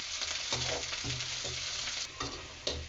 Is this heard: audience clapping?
no